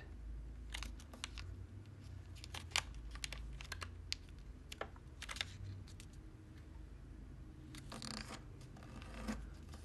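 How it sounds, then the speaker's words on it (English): Paper being folded by hand into a left-handed flying flicker, with soft crisp creases and short scraping strokes scattered over about ten seconds against a low steady room rumble, close and fairly quiet. "And now let's fold this corner up to here."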